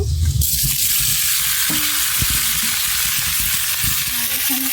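Oil heats and fries in a wok with a loud, continuous sizzle close up, joined by a few sharp clinks and scrapes of a spatula against the pan.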